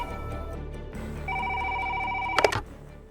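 Telephone ringing: a sustained electronic ring tone starts partway through and holds over low room hum, ending with a short burst of clatter.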